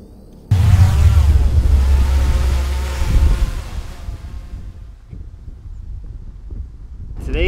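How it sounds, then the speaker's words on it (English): Wind suddenly buffets the microphone with loud low-pitched rumbling that gusts and then eases, with a voice faintly present beneath it. "Today's a really especially windy day."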